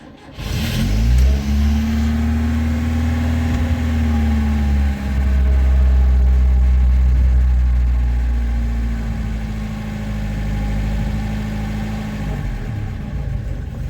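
Close up, a Tavria or VAZ-2106 car engine starts, then idles and revs up and down in a steady mechanical hum, with no talking.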